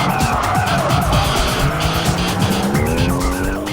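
A car drifting at Maze Circuit in Niigata Prefecture, Japan, its engine roaring loud and close while the tires squeal in long, wavering screeches throughout.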